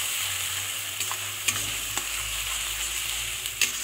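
Spice masala stir-fried in oil left over from frying eggs for egg kosha curry, a loud continuous sizzle with a few sharp spatula scrapes against the pan, close up and without voices.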